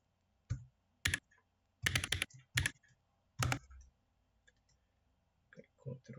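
Typing on a computer keyboard into a spreadsheet: quiet, close clusters of key clicks in short bursts separated by pauses, including a few quick keyboard shortcuts, with a faint voice near the end.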